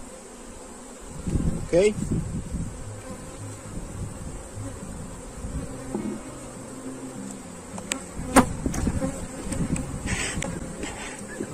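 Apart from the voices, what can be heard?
honeybees buzzing during a beehive inspection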